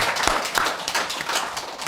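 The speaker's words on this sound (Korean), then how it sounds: "하신 분을 위해서 박수 한번 치겠습니다" Congregation clapping together in a Korean church gospel meeting, a loud, brisk patter of hands with uneven bursts, close and lively.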